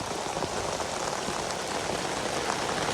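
Rain falls outdoors in a loud, steady wash of close patter, unbroken for the whole stretch.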